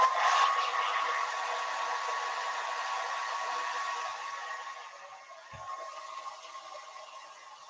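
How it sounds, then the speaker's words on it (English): A small blow dryer whirs steadily with a high airy hiss while drying damp clothing, then its tone drops and fades as it is switched down near the end. "I always keep a little blow dryer here just to blow dry."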